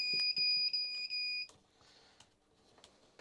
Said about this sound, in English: and if that gets released when it's powered up, it goes into alarm mode